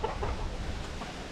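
A few soft chicken clucks over a steady low rumble of wind, brief and fairly close.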